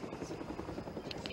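Military helicopters during a film shoot, a low rhythmic rotor chop heard faintly and steadily through a muffled background.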